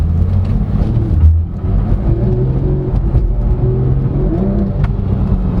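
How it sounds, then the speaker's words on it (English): A 2016 Porsche 911 GT3 RS (991.1) flat-six engine drones loudly from inside the moving car, a steady, harmonically rich hum with small shifts in pitch as the engine speed rises and falls, and no voices over it. "It sounds so sweet, this flat 6. One of the best sounding engines ever made."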